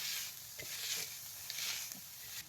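Pavta beans roast on a griddle over a wood-fired chulha and are scraped with a metal water pot, producing a soft continuous sizzle broken by several brief, close scraping strokes at irregular intervals.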